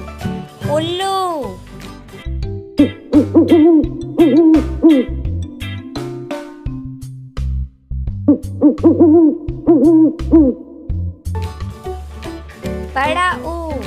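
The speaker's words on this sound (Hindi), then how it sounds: "उल्लू।" An owl hoots again and again in a loud, echoing series of rising and falling calls. A steady low background tone plays under the calls for the whole stretch.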